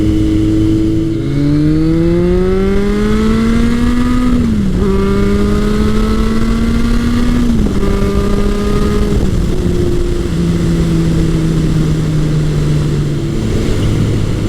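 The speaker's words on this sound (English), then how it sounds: "I love the sound from the Delcovic exhaust" A 1981 Kawasaki KZ1000 CSR motorcycle with a Delkevic exhaust rides past close and loud, its engine note climbing through several gear changes with brief dips between them and no talking.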